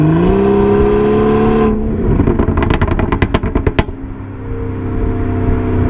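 A modded BMW 340i M-Sport snarls loudly up close, its exhaust note rising under acceleration, then breaking into a rapid series of sharp crackles and pops before settling back to a steady drone.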